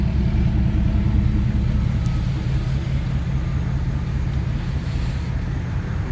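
Ford 6.7 Powerstroke diesel pickup with nearly 200,000 miles idling at a fuel stop, a steady, loud low rumble that holds constant throughout without talk.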